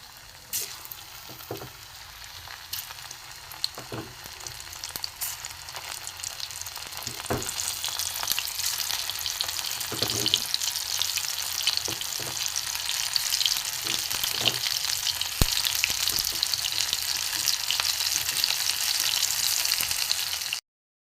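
Lote fish fritters fry in hot oil with a continuous bubbling sizzle that swells louder as more pieces go in, joined by occasional clinks and taps.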